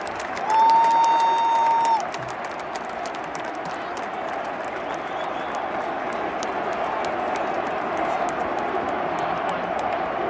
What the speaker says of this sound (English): we might as well see a little bit of the crowd reaction to the retirement